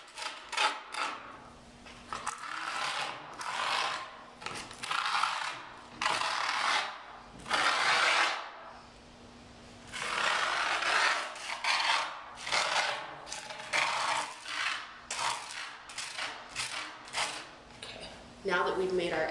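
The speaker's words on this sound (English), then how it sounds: "we want to take our screwdriver and we want to rub it up against the" A screwdriver rubbed along the edges of grip tape on a skateboard deck, giving repeated rasping scrapes in short strokes close by, with pauses between passes.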